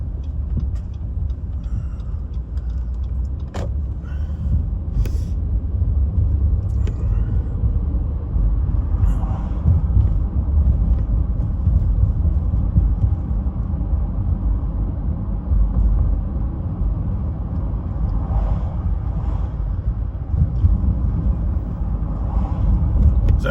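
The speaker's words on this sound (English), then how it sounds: "There's actually a lot of traffic down here because the main street is closed, so most of it is diverted down here." Steady low rumble of heavy street traffic on a side road taking cars diverted from a closed main street, engines droning continuously at moderate distance with occasional louder passes and no clear talk.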